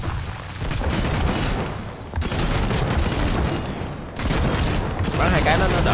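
Sustained gunfire from a warship in the game Trailmakers during a naval battle with a submarine, dense and continuous with heavy booming bursts, loud and close, with voices talking over it.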